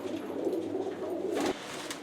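Pigeons in a loft of high-flyer and khaki birds coo in a low, continuous rolling murmur that is close and steady, then breaks off suddenly near the end.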